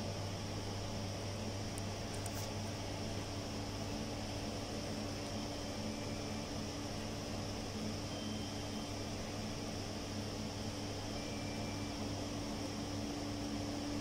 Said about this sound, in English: This is the automatic cleaning. By means of washer disinfector.